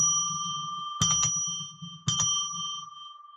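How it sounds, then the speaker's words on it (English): A small bell rung to open a sacred space during a ritual reading, struck twice with bright, sustained ringing tones that slowly fade between strikes over a soft low hum. "Let's ring a bell 3 times to declare sacred space."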